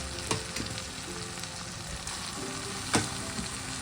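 Dal tipped into a pan of fried garlic, a dense steady sizzle and crackle running throughout with a few sharp spits and pops, close and fairly loud, no voices.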